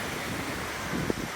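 Wind and surf on the Irish Sea shore, a steady broad wash of waves with gusting wind buffeting the microphone, and a small splash or knock near the end.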